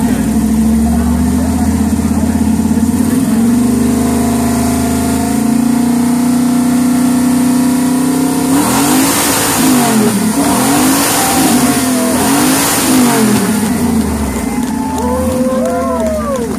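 Car engine revving hard through a loud exhaust in a loudest-exhaust contest at a car show, a steady roar rising into several sharp surging revs before settling back, close and dominant over faint crowd noise.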